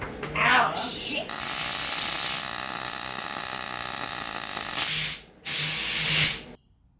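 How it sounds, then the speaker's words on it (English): Hissing, crackling welding on a homemade extended lower control arm for a budget big steering lock build, loud and steady for several seconds, then a short pause and a second burst that cuts off abruptly. "I've got some footage of me welding this together right here."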